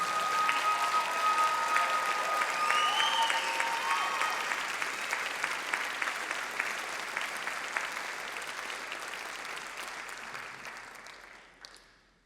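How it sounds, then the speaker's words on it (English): Large concert-hall audience applauding graduating members of a collegiate band at a spring showcase, a dense, sustained wash of many hands clapping that holds steady for about ten seconds, then thins and fades out. "how about a round of applause for all of our graduating members?"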